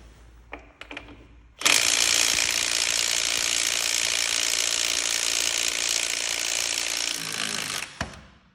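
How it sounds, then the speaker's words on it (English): A Klein cordless impact wrench loosening over-tightened car lug nuts, a few short bursts followed by a loud, sustained rattling hammer lasting about six seconds before it stops abruptly. "let's see if the Klein can finish that off"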